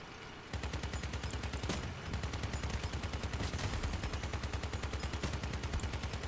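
Twin 20mm guns on a vehicle in the combat game Crossout fire in a sustained, rapid and steady stream of loud, close shots. A brief pause comes near the start, and the fire then continues without letup.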